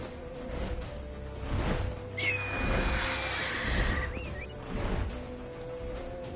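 Roach, Geralt's horse in The Witcher 3, lets out a loud, clear whinny lasting a couple of seconds over rumbling hoofbeats and ambient game noise, with no one speaking.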